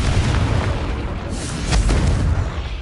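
Confringo fire spell bursting in Hogwarts Legacy, a heavy low boom that swells and rumbles with a crackling blast tail, loud and close.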